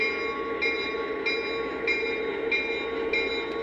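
Simulated train rolling in an iPad train cab simulator game: a steady mechanical hum with tonal engine whine and regular soft clicks recurring about every 0.6 seconds, with no talk.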